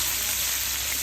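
Onions and green chilies fry in hot oil in a pan for a mutton curry, giving a dense, continuous sizzle that stays steady and close throughout with no voices.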